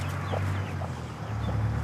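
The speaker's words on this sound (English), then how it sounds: "That's what the hen, she brought it out." Low, repeated clucking from a farmyard hen, close and steady for about two seconds, with faint higher chirps scattered above.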